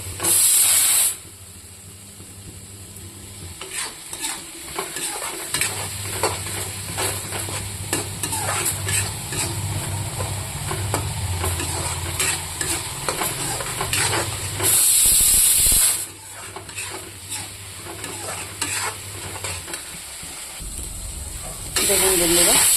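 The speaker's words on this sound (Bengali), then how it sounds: "এটা এখন আমি ভাজবো।" Paneer curry spices and dried red chillies fry in hot oil, a continuous loud sizzle and hiss with occasional stirring scrapes, bursts of sharper hissing now and then, close up and mostly without talk.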